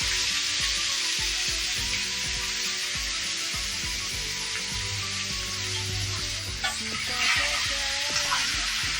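Country chicken pieces, washed beforehand, frying in a pan with tomato for a naatu kodi curry, giving a steady broadband sizzle with scraping stir strokes throughout, close and fairly loud.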